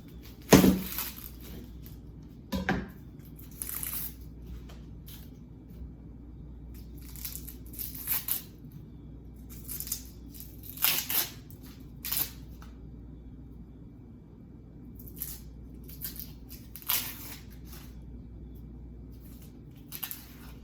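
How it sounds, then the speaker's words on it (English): An onion being chopped with a knife on a board for potato soup: a run of sharp, close cuts, some bunched and some spaced out, over a quiet kitchen background. "I'm going to chop up an onion to also put in there to boil together with the potatoes"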